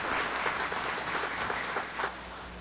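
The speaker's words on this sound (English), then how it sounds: "I want you to give a big round of applause to Dan" An audience at a technical security presentation applauds a presenter, a dense, steady wash of many hands clapping throughout before it drops off near the end.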